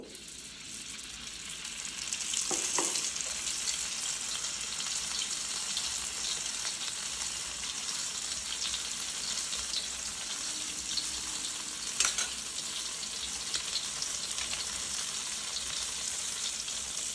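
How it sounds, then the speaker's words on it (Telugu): Ghee and cheese fry quietly in a pan on a lit stove, giving a faint, steady sizzle with occasional sharper crackles and clicks. "స్టవ్ వెలిగించి బాండి పెట్టి గీ వెయ్యాలండి కొంచెం లైట్గా తర్వాత చీజ్ వేయాలండి"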